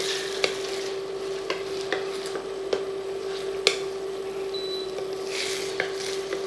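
Scrambled eggs with butter being stirred in a pan on an electric stove, a soft continuous sizzle with occasional light scrapes and clinks of the utensil against the pan, close and steady with no talking.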